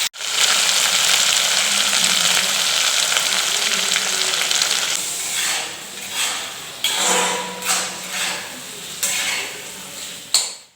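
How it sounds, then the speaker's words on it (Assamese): Masala frying in a kadai over medium heat while being stirred often, a steady loud sizzle at first that thins into scraping stirs and sharp clinks of the spoon against the pan. "ঘনে ঘনে লৰাই দি থাকিম, নহ'লে মছলাখিনি কেৰাহীত লাগি যাব পাৰে।"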